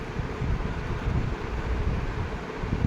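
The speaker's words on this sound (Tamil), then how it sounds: "சரியான காற்று அடிச்சிட்டு இருக்குது" Strong wind blowing through a garden with decorative plants swaying, a steady broad rushing roar with gusty buffeting against the microphone, fairly close and continuous, with no talking.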